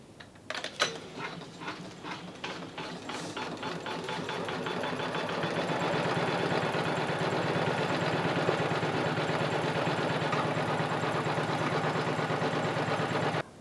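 An embroidery machine stitches out a wreath design on a quilt-as-you-go square with a fast, steady mechanical whirring and rapid needle chatter that starts with a few clunks and then runs continuously at moderate volume.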